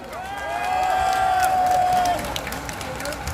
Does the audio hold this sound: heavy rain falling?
no